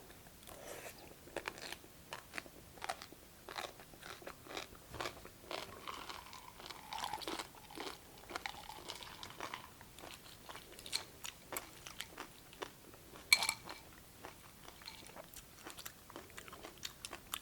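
Close, crisp crunching and chewing of cold cucumber soup, with repeated bites and steady mastication sounds and no talking.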